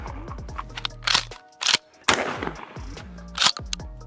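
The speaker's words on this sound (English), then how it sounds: "We are shooting a pump shotgun." A Stevens 320 12 gauge pump shotgun fires outdoors at a range: loud blasts, each with a sharp crack and decaying boom, separated by pauses and mechanical clatter, with a low steady hum underneath.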